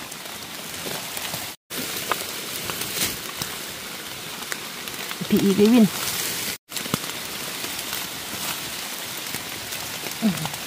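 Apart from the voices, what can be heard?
rain falling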